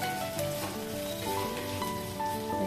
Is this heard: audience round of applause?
no